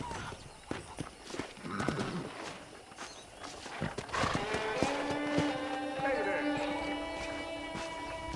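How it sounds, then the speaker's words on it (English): Horse hooves clip-clop and a horse neighs in the Western open-world game Red Dead Redemption, the hoofbeats quick and rhythmic, with a long whinny in the second half and speech mixed in. "let's see if you can still ride a horse"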